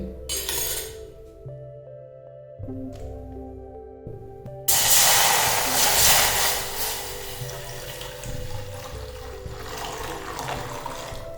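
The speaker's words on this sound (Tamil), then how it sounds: "ஒரு கிளாஸ் தண்ணி ஊற்றியாச்சு." A clink is followed by a burst of water pouring into a pan, splashing loudly and then settling into a softer sizzle and trickle.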